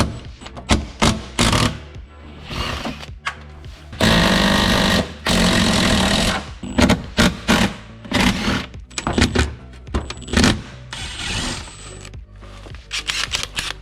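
A large impact wrench loosening a 19 mm driveshaft bolt on an old Volvo, loud hammering bursts in repeated rattling runs with short pauses between, close up, no talking.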